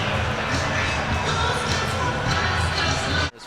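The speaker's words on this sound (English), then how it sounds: "we have a crowd cheer here" A hockey game crowd cheers in a dense, steady roar of many voices that holds loud and unbroken, then cuts off abruptly near the end.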